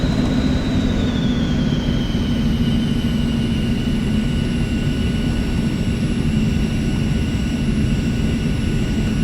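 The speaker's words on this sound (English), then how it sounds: "just had a commercial aircraft take off in front of us." A commercial aircraft takes off from a runway ahead in Alaska, producing a loud, constant jet engine roar with a steady high whine that slides slightly downward, heard from inside another aircraft.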